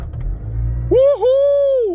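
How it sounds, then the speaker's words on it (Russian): A car engine is started on a freezing morning at about minus 21 degrees, catching on the second try: a low cranking rumble runs for under a second, then gives way to a loud, sustained whining tone as it fires. "Машина завелась."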